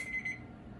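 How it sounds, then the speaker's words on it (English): A kitchen timer alarm sounds while biscotti bake, a faint, thin high beeping tone that pulses a couple of times briefly over quiet room noise. "Oh, there's the alarm, Carlo."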